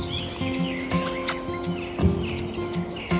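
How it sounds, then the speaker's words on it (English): Birds chirp and tweet in short repeated calls outdoors on a morning, moderately loud against a steady low electrical hum, with no talking. "Listen to the birds for a few seconds"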